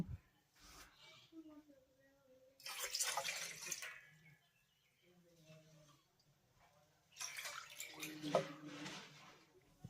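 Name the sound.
water being poured from a measuring cup into a pan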